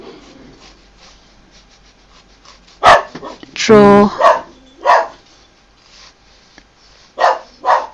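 A pet dog gives a few sharp indoor barks and yips in short bursts close by, with a person talking quietly between them.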